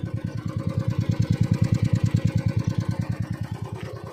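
Royal Enfield motorcycle engine idling close up, a steady loud thumping beat of regular firing pulses throughout, no talk.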